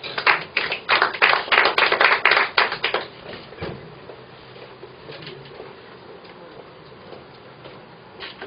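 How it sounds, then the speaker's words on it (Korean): An audience claps warmly to welcome a gospel singer at a public lecture event, a dense burst of applause for about three seconds that then thins out and fades, leaving a quiet room. "박수로 맞이해 주시기 바랍니다."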